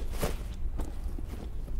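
Cloth rustle and gear jostling from a friendly character moving in a video game, a soft, steady shuffling with a few sharper rattles, close and continuous.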